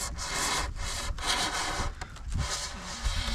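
A blade cuts through an XPS foam insulation board for foundation wall insulation, making close, rough rasping strokes in a steady back-and-forth rhythm with short breaks.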